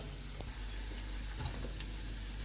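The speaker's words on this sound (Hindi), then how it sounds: "और इन्हें हम तकरीबन 1 मिनट तक ऑयल में फ्राई करेंगे।" Whole spices fry in hot oil for a white pea pulao, giving a steady, close sizzle with occasional soft stirring knocks and crackles, without any voice.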